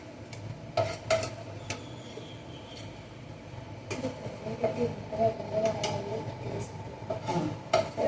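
Food is scraped and dropped into a ghee-greased dish for a kids' snack, with several sharp clinks of a utensil against the dish and soft scraping in between, close and fairly quiet.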